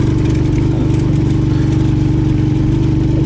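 Steady jeep engine running close by at a constant idle-like pitch, on a mountain road in a high-altitude area, loud and continuous with no talk over it.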